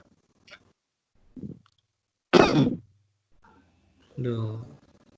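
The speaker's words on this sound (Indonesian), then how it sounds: "batuk aja tuh" Coughs and throat clearing come through an online meeting: a few faint bursts, then one loud harsh cough and a later raspy throat-clearing, with quiet gaps between.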